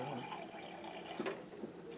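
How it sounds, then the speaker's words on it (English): Water is poured into a pot of rice for a pistachio rice pilaf, making a soft, continuous trickle and splash that stays fairly faint against a low background. "Quarter cup of water there added."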